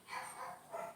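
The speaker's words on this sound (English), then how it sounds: "my dog's barking right now, you can hear them downstairs" A dog barks from downstairs, two or three quiet muffled woofs heard at a distance indoors.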